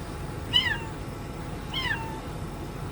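Two thin, high meows from a kitten trapped in the underbody of a Tesla Model 3 at a tire shop, about a second apart, over a low steady background hum.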